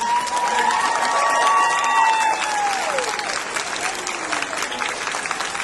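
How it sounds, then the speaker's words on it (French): A roomful of people applauds warmly, sustained clapping with some cheers rising and then slowly tapering off. "Alors, applaudissons chaleureusement."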